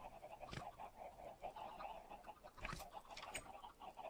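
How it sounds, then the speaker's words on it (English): Minecraft chickens cluck in short, repeated game-sound bursts under a faint background, with a couple of sharper clicks and thumps, fairly close and modest in level. "I was going to butcher these chickens"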